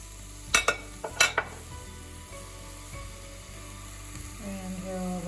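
Garlic and shallot hitting hot oil in a pot: a few sharp clattering knocks of utensils, then a steady light sizzle that swells toward the end, close up.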